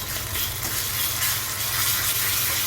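Ginger, garlic and coriander paste frying in hot oil with onions for a masala curry, giving a steady, dense sizzle that holds evenly close throughout with no voices.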